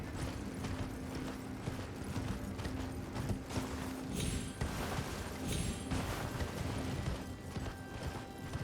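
Horse hooves clip-clopping during riding in the video game Elden Ring: a steady, rapid stream of hoofbeats at moderate distance, continuous and fairly quiet, with faint mechanical clatter mixed in and no talking.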